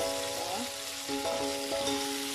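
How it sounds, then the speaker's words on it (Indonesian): Squid rolls that were already fried are sautéed in melted butter in a pan, a steady close sizzle running throughout beneath a few sustained tonal sounds. "Masukkan dan lalu kita tumis. Nah, kita tumis di atas mentega."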